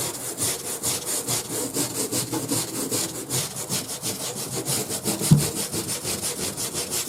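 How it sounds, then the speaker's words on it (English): A scrub brush is worked back and forth over a hat sprinkled with powder, making steady rhythmic bristly rasps about three per second, close and moderately quiet. "Need a trusty old scrub brush."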